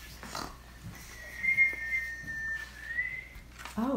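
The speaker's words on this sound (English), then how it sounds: "I whistled." A child whistles a single sustained, wavering tone for about two seconds, close by, with a few soft background noises before and after.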